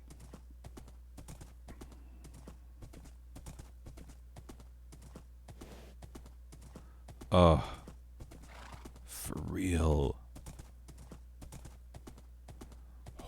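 Steady clip-clop of horse hooves in a Minecraft-style survival game, even rhythmic footfalls running throughout, with a brief whinny-like burst and a short spoken exclamation partway through.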